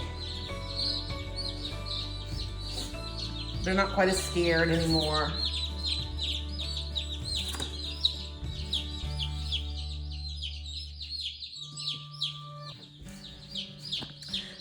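Chickens just let out of a box chirp and cluck steadily, high peeping calls mixed with lower clucks, while someone speaks nearby over them.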